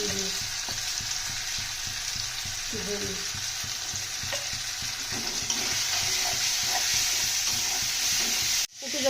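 Ground spices with a splash of water are sautéed in a pan for a rohu fish curry with cauliflower and potato, producing a loud, continuous hiss and bubbling sizzle with light spoon stirs; it cuts out briefly just before the end.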